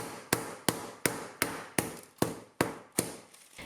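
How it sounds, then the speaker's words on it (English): A hammer striking cooled candy covered with baking paper, eight sharp cracking blows in an even rhythm, close and clear with brief crunchy decay after each hit and no talking. "Cover the cooled candy with baking paper and hit it a few times with a hammer"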